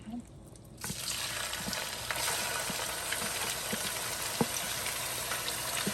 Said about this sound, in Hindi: चिकन सबका पेस्ट बना लिया और कढ़ाई में डाल लिए। अब हम उसको भून लेते हैं।